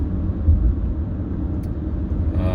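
Steady low rumble of a car cruising on a road, heard from inside as a loud, continuous drone with no talk.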